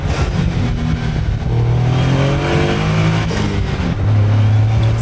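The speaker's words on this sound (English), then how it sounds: "This has the 660cc 3-cylinder turbo engine, as you can hopefully hear those turbo whistles." Caterham 170S with a 660cc three-cylinder turbo engine accelerating under load, a loud, steady drone rising in pitch through the gear with faint turbo whistle, close and continuous with no talk.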